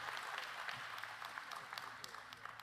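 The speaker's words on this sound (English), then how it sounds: "Can we get one more hand of applause for our seniors, our outstanding seniors?" An audience at a high school graduation applauds the graduating seniors with steady, dense clapping at a moderate level, and crowd voices murmur faintly underneath.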